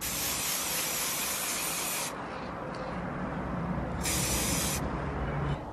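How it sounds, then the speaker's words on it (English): Spray paint hisses from an aerosol can onto a car's wheels, a steady close spray in long bursts with brief gaps between passes. "hopefully when I spray this it should be okay and it should be the right colour to my car"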